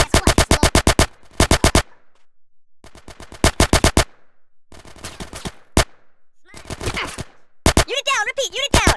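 GTA San Andreas gunfire, sharp rapid automatic bursts in repeated short volleys with gaps between, loud and close, and a shouted voice near the end.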